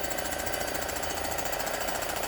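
A resurfacing machine cuts the deck of a Jeep 3.7L cylinder head, a dense, steady, rapidly pulsing mechanical grind with a high whine on top, loud and unbroken for the whole moment.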